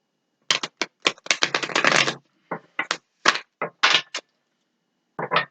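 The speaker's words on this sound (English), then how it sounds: "It's a hard deck to shuffle." A thick Universal Tarot card deck is shuffled by hand in short, dry bursts of riffling and slapping cards, close and fairly quiet, with brief silent pauses between bursts.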